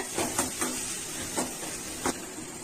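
Banana flower and drumstick leaves sauté in a pan with chopped onion in a Tamil home kitchen, giving a steady hiss with a few soft stirring knocks, close and even, with no talk.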